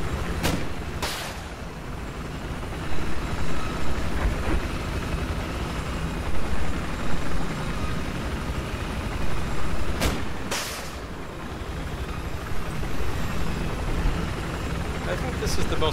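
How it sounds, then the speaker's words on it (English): A helicopter in Battlefield 4 drones steadily throughout, with sharp bursts of gunfire or explosions near the start and around the ten-second mark. "I think this is the most stable I've ever held the chopper."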